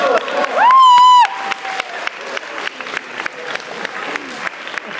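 A hypnotist-show audience at a university orientation claps in a round of applause through most of the span, with a loud tonal whine or squeal near the start and scattered voices mixed in.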